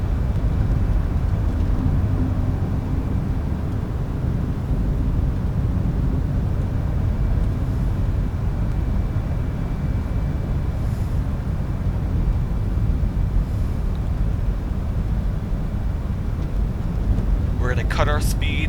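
A Fenix A320 airliner lands in a flight simulator game: a loud, constant broadband rumble of engine and airflow fills the whole stretch, with a short voiced sound breaking in right at the end.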